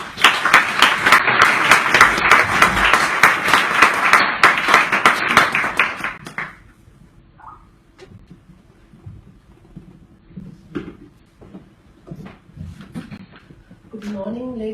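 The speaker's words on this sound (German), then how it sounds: "Ich bitte um einen herzlichen Applaus für unsere heutige Gastgeberin" A conference audience in the Bavarian Parliament in Munich gives sustained, dense applause for the host for about six seconds, then it stops abruptly, followed by quiet room noise and faint rustling with some talk at the end.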